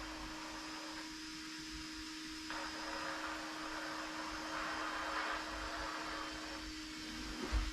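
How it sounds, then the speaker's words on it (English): Low, steady electric whir of an Axial SCX6 RC rock crawler's sensored motor during slow-speed crawling, a faint continuous hum with slight rises in pitch and a brief bump near the end, no talk. "Sensored motor, slow speed crawling."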